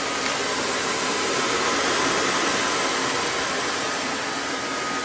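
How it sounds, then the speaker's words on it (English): A furnace in a Keystone Cougar 276RLSWE fifth wheel trailer runs beneath the refrigerator, giving a loud, steady blowing roar like a hair dryer that holds without change throughout. "So the furnace is underneath the refrigerator, and that's where most of the sound's coming out."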